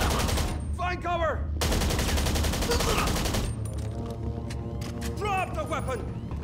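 Video game heist shootout: rapid bursts of automatic gunfire and single shots, loud and close, rattle almost continuously, with shouted voices breaking in at the start and near the end.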